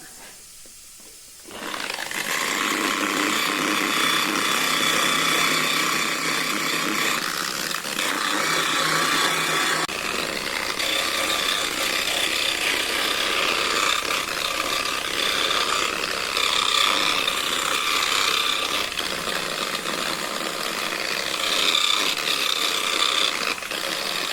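Sustained, loud abrasive rubbing of silicon carbide sandpaper against stone, continuous for over twenty seconds after a brief quiet start.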